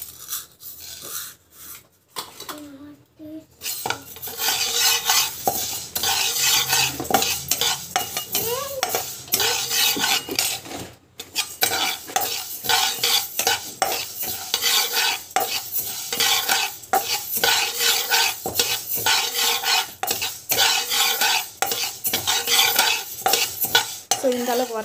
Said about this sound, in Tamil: ஸோ வெந்தயம் வந்து வறுத்துக்கிறேன்.